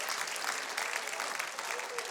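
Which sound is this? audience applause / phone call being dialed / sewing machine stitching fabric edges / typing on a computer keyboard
audience applause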